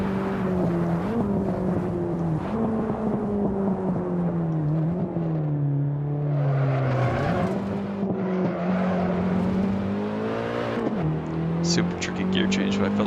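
A BMW E30 M3 engine in the Assetto Corsa racing game revs hard and drops through several downshifts, the pitch rising and falling in sweeps with blips between gears, while a voice talks over it.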